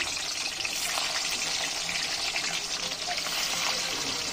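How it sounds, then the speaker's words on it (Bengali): Hilsa fish pieces fry in hot oil in a kadai, giving a continuous, fairly loud crackling sizzle that holds steady with no talking. "তো ইলিশ মাছগুলো এবার আমি ভালো করে কড়াইতে তেলে দিয়ে দিই"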